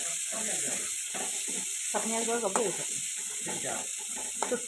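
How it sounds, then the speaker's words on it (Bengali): Onion, green chili and garlic sizzling in hot oil in a village kitchen, a continuous crackling fry with intermittent scraping stirs close by. "এই যে তেলের মাঝে আমি পেঁয়াজ কাঁচামরিচ রসুন সব একটু বাজি"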